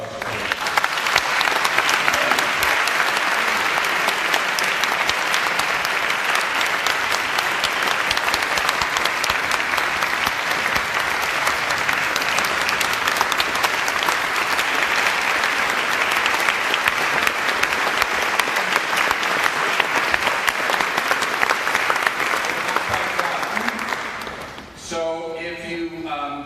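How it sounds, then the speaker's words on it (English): An audience applauds at a talk event, dense sustained clapping from a crowd lasting about twenty-five seconds before fading, with a voice starting to speak at the end. "A round of applause for"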